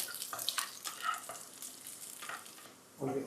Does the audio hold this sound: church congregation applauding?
no